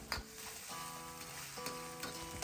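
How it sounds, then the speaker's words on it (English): Pork mince frying with spicy bean sauce in a stir-fry for eggplant and green beans, producing a short, close, busy sizzle with a few quick stirring scrapes. "Stir it around and let it fry for a few seconds to release all that spicy umami goodness"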